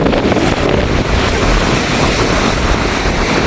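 Heavy storm surf roars and crashes continuously onto the shore at Point Pedro, buffeted by strong wind noise on the microphone; loud and close, with no clear speech.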